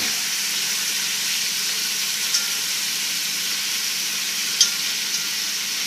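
Beef pieces for boeuf bourguignon searing in a pot, a steady close sizzle and hiss throughout, with a couple of faint clicks of the pieces being turned.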